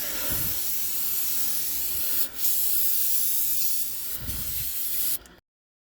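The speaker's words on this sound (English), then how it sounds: "we'll take our brake clean again and we'll spray down the filter" A continuous aerosol spray of brake cleaner onto an oil filter on a 2004–2009 Ford hybrid hisses loudly for several seconds, with brief pauses, then cuts off abruptly.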